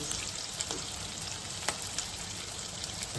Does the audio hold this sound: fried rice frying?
yes